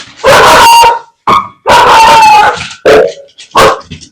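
A ring-modulated piano played through a reverb pedal sounds like a dog barking loudly and close in a run of several harsh, irregular barks with brief pauses between them.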